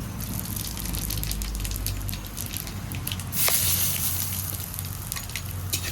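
Dried red chillies, bay leaf and panch phoron frying in hot oil for a vegetarian curry, a steady wet sizzle over a low hum, with a brief louder surge midway.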